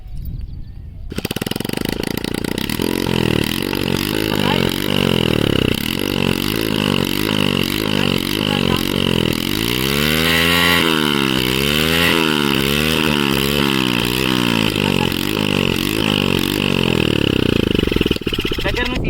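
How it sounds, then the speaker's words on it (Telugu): A Hero Splendor motorcycle engine, opened up, starts and runs loudly close by, idling with a rough, pulsing rhythm and repeatedly revving up and down. "మొత్తానికి అయితే ఇంజన్ స్టార్ట్ చేసేసాము"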